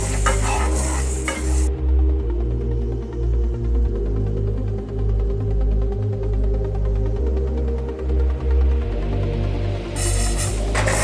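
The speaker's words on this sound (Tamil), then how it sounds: "ஸோ அதனால் நீங்கள் வந்து எல்லாமே தனித்தனியாக வந்துட்டு வறுத்து வச்சுக்கோங்க." Toor dal is dry-roasted in a pan for homemade sambar powder while being stirred constantly, making a loud, close, continuous scraping rattle that swells and eases in rhythm with the stirring, with no voices.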